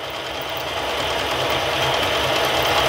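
Round column mill cutting a pass through metal to leave clean inside angles: a steady, close mechanical whir with a fast rhythmic chatter underneath, continuous and alone.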